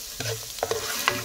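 Onion sizzles in a hot pan while being stirred, giving a steady close frying hiss broken by a few soft scraping clicks of the spoon, with no speech.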